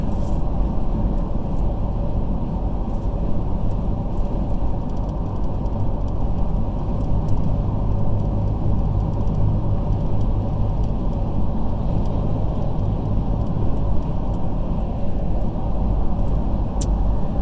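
A car drives in thick highway traffic on I-85 heading north from Georgia into South Carolina, with a loud, constant rumble of engine and road noise throughout and no voices.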